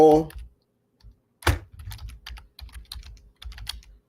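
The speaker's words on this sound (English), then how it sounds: "I'm going to go back and type a different name for that folder" Typing on a computer keyboard, a quick burst of close key clicks in a short uneven rhythm, with a voice speaking briefly at the start.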